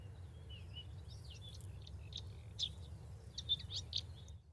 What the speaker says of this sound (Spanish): Pondré el canto, intentaremos ser discretos, y si funciona veremos aparecer al pájaro o lo escucharemos cantar.